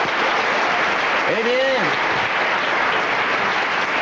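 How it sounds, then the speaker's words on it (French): An audience at a 1987 Christmas comedy television show applauds steadily and loudly throughout, with a brief voice speaking over the clapping. "On applaudit."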